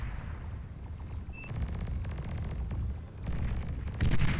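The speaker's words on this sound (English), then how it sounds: "Rattlesnake having a grand old time firing into the distance here." Rattlesnake artillery firing in the strategy game Beyond All Reason, several heavy booming shots going off one after another with rumbling tails, the last burst loudest, no voices.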